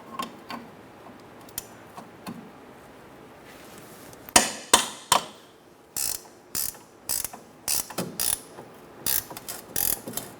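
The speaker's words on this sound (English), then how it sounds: "Using a 17mm ratchet wrench, I'm going to loosen up this nut, take it off." A 17mm ratchet wrench loosens a sway bar link nut on a 2004-2009 Mazda 3, with quiet handling at first, then a run of sharp ratcheting clicks in short bursts, close up with no talking.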